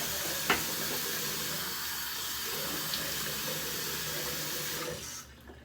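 Cold tap water runs into a bathroom sink after a shave, a steady hissing stream that is close and continuous, then cuts off near the end.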